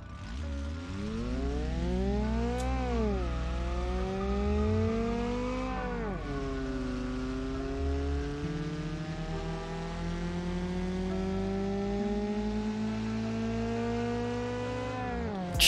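In the BeamNG drag racing game, a car fitted with a swapped Niva engine revs hard through several gear climbs, the engine pitch rising and dropping in repeated sweeps before settling into a steady high drone.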